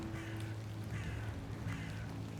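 A crow gives three faint, evenly spaced caws in the pixel-art horror adventure game The Excavation of Hob's Barrow, set over a steady low ambient drone.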